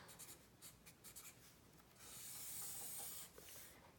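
Handwriting on paper, jotting down a month, temperature and rainfall figures: soft, faint scratching strokes in short bursts, then a longer continuous scribble, close and quiet with no talking.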